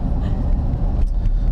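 A 2014 GMC Sierra Denali pickup with the 6.2L engine gives a low, steady rumble from inside the cab while it drives, a continuous heavy hum that stays at the same level throughout.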